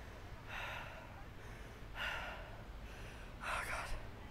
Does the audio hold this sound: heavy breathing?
yes